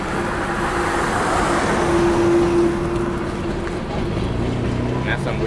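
Steady broadband rumble of traffic in Richmond, Virginia, continuous and moderately loud, with a low engine drone and a faint tone running through it.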